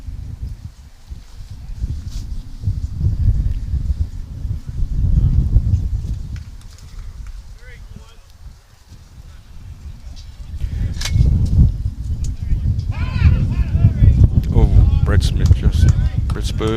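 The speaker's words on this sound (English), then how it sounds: "You hear that wind in the effects" Gusty wind blows across an outdoor lawn bowls green during a match, a broadband rumble that swells loud, eases midway, then surges again, with a commentator talking over it.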